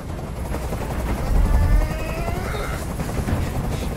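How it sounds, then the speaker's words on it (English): Helicopter in the video game Detroit: Become Human, a loud continuous rotor roar with fast rhythmic chopping that swells midway and then holds steady. "I can't stand that noise anymore! Tell that helicopter to get out of here!"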